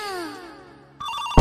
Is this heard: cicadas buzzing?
no